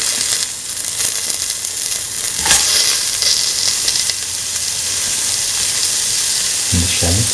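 Red chillies and onion pieces sizzling in a hot pan, a loud steady hiss and crackle of frying with a brief stirring scrape midway and some clatter near the end.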